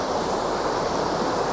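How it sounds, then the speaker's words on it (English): Rainwater pouring down through Cheddar Gorge in Somerset after days of rain, a steady broadband rushing wash with no voices. "You can see all the water coming down there."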